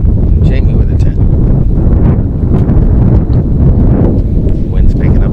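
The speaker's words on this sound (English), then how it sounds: "Wind's picking up again." Gusty wind buffets the microphone outdoors at the 2014 U.S. Open, a steady, loud, rumbling roar with no letup across the whole stretch.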